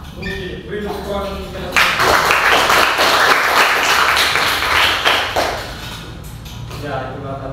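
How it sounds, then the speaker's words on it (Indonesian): A crowd breaks into loud applause and clapping that lasts several seconds, with a few voices before and after it. "Oke, beri tepuk tangan."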